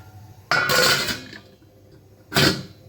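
A lid set onto a cooking pot of sago khichuri makes two close, clattering metal clanks with a short pause between them.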